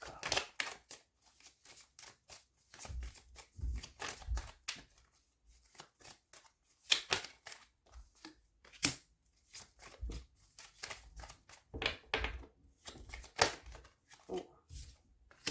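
Tarot or oracle cards are shuffled and dealt out during a reading, giving repeated crisp riffling and flicking bursts with soft slaps as cards land, fairly close and quiet.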